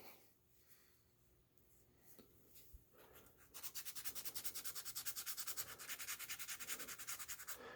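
Sandpaper rubs on a 1/6 scale figure in rapid, even back-and-forth strokes, close and fairly loud, following a few seconds of quiet handling.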